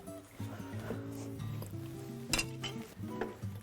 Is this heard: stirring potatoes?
yes